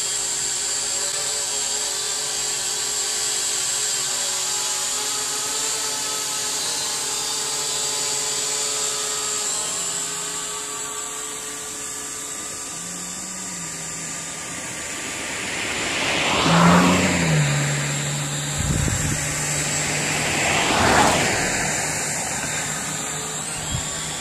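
Syma X8 drone hovering with a low battery, a constant close whirring buzz of its rotors held steady, with a couple of brief louder swells near the end.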